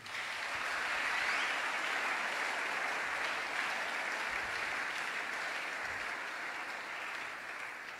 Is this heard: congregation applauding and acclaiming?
yes